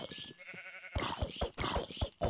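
Sheep in the Minecraft video game bleat in a few short, wavering cries at moderate volume, followed by quick soft game sounds.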